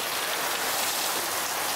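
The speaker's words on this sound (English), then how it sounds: "And then the rain just came. Skies opened up." Heavy rain pours down on a fishing boat at sea, a dense steady hiss of drops with no letup, close and loud with no voices.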